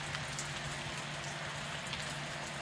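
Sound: rain falling

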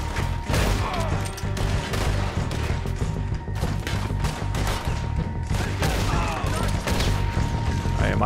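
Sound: repeater rifle gunshots in video game Red Dead Redemption 2

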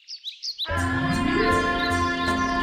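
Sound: baby birds singing in a cartoon

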